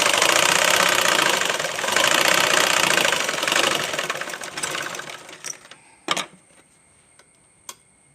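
Sewing machine stitching fabric runs loud and steady for about five seconds with a rapid ticking drone, then stops, leaving only a few sharp clicks and knocks in near silence.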